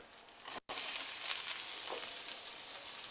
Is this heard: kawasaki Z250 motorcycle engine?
no